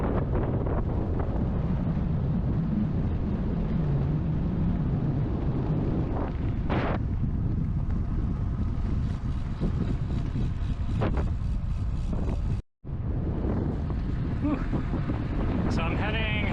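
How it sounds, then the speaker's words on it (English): Strong headwind buffeting a bicycle-mounted microphone on a rural North Carolina road, a loud continuous rumbling roar with gusts rising and falling and one brief dropout, and no clear talk over it. "Only bad thing is a lot of headwind."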